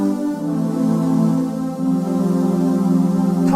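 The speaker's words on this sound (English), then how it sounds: "Using the tone 2 switch, I can add another tone like this." A Roland GAIA SH-01 synthesizer plays a sustained pad built from two layered tones, a rich, steady chord that shifts pitch slightly twice and holds loud and close, with no talking over it.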